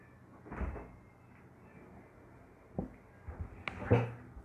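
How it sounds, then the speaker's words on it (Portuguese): A household door is pushed shut, with a soft knock early on, then a few louder thuds and a latch click near the end, close by against a quiet room. "Deixa eu fechar a porta"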